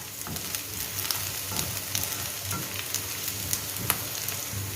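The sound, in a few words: sautéing onions with green chillies and curry leaves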